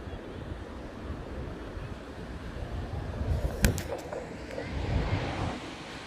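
Sea waves wash onto Arnala beach in a continuous low surf roar, swelling gently twice, with a steady wind rumble and a brief faint clatter partway through.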